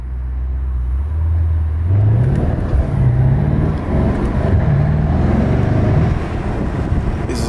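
A Mercedes-AMG E63 S in race mode accelerates hard along a highway at night, heard from inside as a loud, steady engine roar with rising gear-pull sweeps and constant road rumble.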